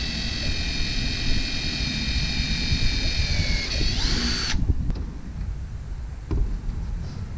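Power drill driving bolts into a DIY kayak battery compartment, a steady high whine running for about four seconds and then cutting off, followed by quieter low workshop rumble.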